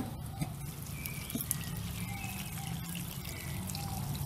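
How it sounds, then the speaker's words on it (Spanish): Water poured into a pan of fried chiles, giving a steady trickling, splashing wash that runs throughout at moderate level, with faint background sounds and no clear talk. "ahora le vamos a agregar agua."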